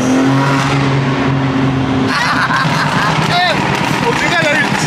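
A BMW M3 tuned to 912 horsepower revs hard and accelerates with a loud, close roar, with tire squeal and a shift in engine tone midway, while people talk excitedly over it.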